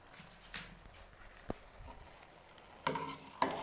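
Vegetable rice pulao stirred in a pot with a spoon, a few scraping knocks against the pot over a low background sizzle, close and moderately quiet.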